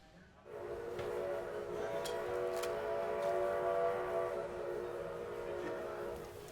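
A steam whistle sounds as locomotive number 7 departs Roaring Camp, a sustained chord-like blast over rumbling, chuffing rail noise that lingers for several seconds.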